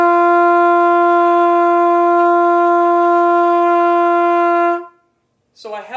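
A wind instrument holds one steady, clean note for about five seconds, loud and close with a clear start and a tidy cutoff, then a short rising sound after a moment of silence.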